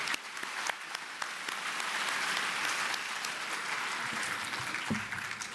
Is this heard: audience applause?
yes